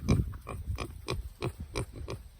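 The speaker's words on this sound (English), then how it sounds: "Pig." A pig in a muddy pen after heavy rain gives a series of short, rhythmic grunts close by, about six evenly spaced snorts in a row.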